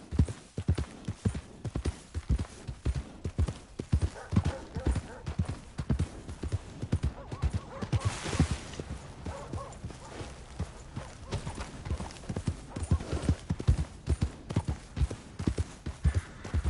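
A horse's hooves clip-clop steadily on the ground in the Red Dead Redemption 2 video game, a continuous walking rhythm close by, with a brief swell of noise midway and occasional faint voices.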